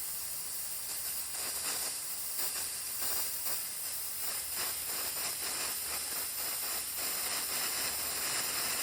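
A Mr Heater propane fuel keg, once full, vents propane in a steady, loud, continuous hiss that holds unbroken for the whole stretch with no voices.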